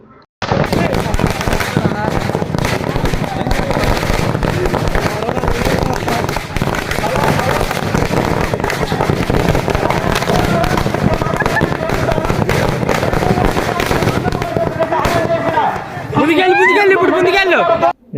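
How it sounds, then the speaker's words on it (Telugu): Firecrackers crackle and burst in rapid bursts amid a noisy crowd with background chatter at a temple festival for the goddess Mathaparameswari in Chennuru, fairly loud and close. "టపాసులు అయితే కాల్ చేస్తున్నాము"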